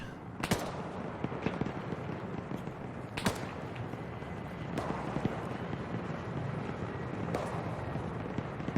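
Gunfire in the military shooter game Arma 3: several sharp, separated shots ring out over a steady, faint wind-like background hiss, spaced a second or two apart at a moderate distance.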